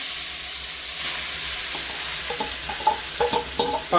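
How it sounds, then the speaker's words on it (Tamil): Leftover rice stirred into a hot pan of tempering with cumin and asafoetida, with a soft, continuous sizzle and a few sharper scraping stirs near the end. "இப்போ நம்ம கலரி வச்சிருக்கீங்க சாதம், அதை கொஞ்சம் கொஞ்சமாக போட்டு நம்ம நல்லா கலந்துக்கலாம்."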